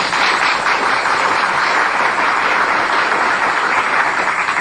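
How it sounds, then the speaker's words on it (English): Loud, dense studio audience applause on a talk show, steady and continuous throughout without any talking over it. "Let's give him a big round of applause, please."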